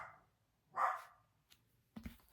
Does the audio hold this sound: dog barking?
yes